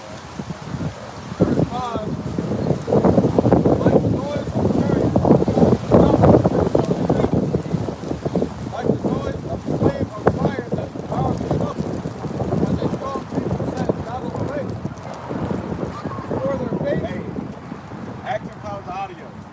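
Strong outdoor wind buffets the microphone in loud, continuous gusts at an open-air camp gathering in Tampa, Florida, with voices talking underneath.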